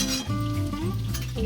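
Okra cooks in a pan with a soft, steady sizzle and light stirring, brief and fairly quiet, with no voices.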